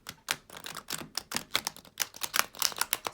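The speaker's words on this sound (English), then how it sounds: "it riffle shuffles very easily" A Light Seer's Tarot deck riffle shuffled up close, a quick run of crisp card flutters and snaps in rapid bursts, alone without talk.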